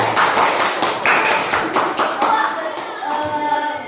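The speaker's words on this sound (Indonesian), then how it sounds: "Tepuk tangan dulu untuk kelompok 1" Classroom clapping for a student group during a teaching practice lesson, a short burst of hand claps from a small group, fairly close and loud, easing slightly near the end.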